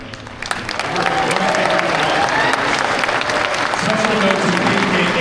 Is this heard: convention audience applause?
yes